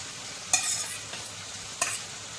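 Poha mixture being stirred in a hot pan for Gujarati-style bataka poha, a soft sizzle running under two sharp scraping strokes of the spoon, close and without voices.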